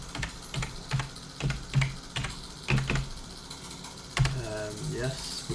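Keys clatter on a computer keyboard as a search term is entered into a graphics design tool's elements panel, coming in short irregular bursts of close clicks with a faint voice and brief soft noises in between.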